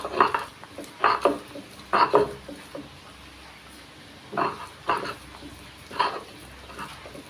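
Boiled jackfruit seeds are ground for bharta, heard as a few separated bursts of rough grinding and knocking, close by and fairly clear, with quiet pauses between strokes.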